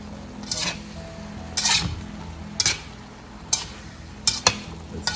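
Beef for Filipino bistek Tagalog sizzles in a pan while being stirred to cook off its liquid, with a steady fry hiss broken by several sharp scraping strokes of a utensil against the pan.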